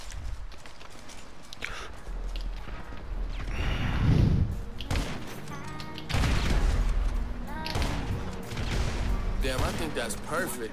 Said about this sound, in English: I shot him 2 times